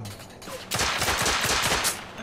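Rapid gunfire in The Order 1886 video game bursts in after a quieter start, a dense stream of loud shots that continues steadily to the end.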